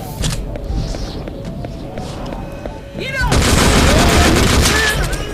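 Gunfire in a horror shooter video game, with repeated sharp shots and heavy booms. The shots are close and loud, building into a dense continuous barrage in the second half.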